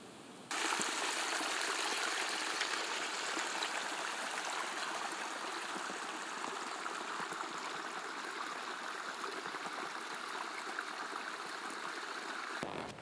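A stream in the Karelian wilderness flowing steadily, a continuous broad rushing and trickling of water that holds an even, close level throughout with no voices.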